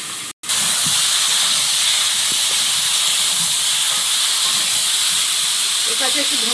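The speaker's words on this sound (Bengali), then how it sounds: "মশলাটা ভালো করে কষিয়ে নিয়েছি, এবারে আলু বেগুনটা দিয়ে দেবো।" Potato and eggplant curry frying in spiced masala: a loud, steady hiss of sizzling that starts after a brief break and holds continuously close by, with faint bubbling near the end and no talking.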